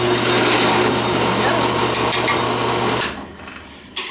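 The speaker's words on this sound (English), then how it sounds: "This is a Harbor Freight drill press" A Harbor Freight drill press runs with a steady motor hum and whirring noise for about three seconds, then winds down, ending in a sharp click nearby.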